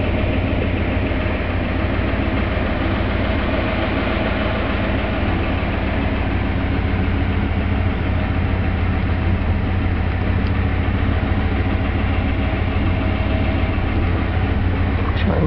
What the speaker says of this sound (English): You can hear the engine. It's a beautiful little purr, or big purr rather.